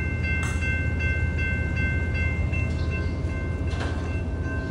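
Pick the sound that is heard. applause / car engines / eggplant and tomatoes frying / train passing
train passing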